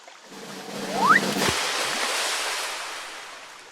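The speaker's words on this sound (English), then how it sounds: "This stream isn't wide, but the current is strong." A narrow but strong stream rushes and splashes, a broad watery wash that swells after a brief rising tone and a sharp splash, then stays loud and steady before slowly easing.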